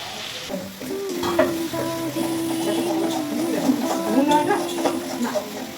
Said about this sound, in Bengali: এতে জিরে ফোড়ন দিয়েছি দিয়ে সবজিগুলো ফেলে দিয়েছি কষিয়ে নিয়ে